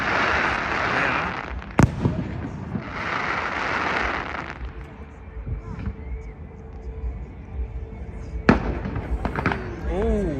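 Large opening fireworks at the Aschaffenburg Volksfest burst high overhead: two long crackling rumbles early on, then sharp isolated bangs and quieter pops, with people talking faintly in between.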